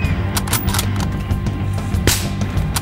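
Rapid gunfire rattles through a Battlefield Hardline firefight, with dense overlapping shots and bursts sustained at a steady loud level with no pauses.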